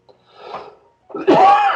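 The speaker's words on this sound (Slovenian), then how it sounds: "Zdaj vem, da moram pravilno kašljati." A single person coughs or clears their throat twice, close and loud: a short rough burst, a pause, then a longer and stronger harsh cough with nothing else around it.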